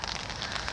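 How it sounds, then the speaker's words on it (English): Light rain patters steadily on a small lake during a fishing session, a dense close hiss with no voices. "yeah, it's raining a bit,"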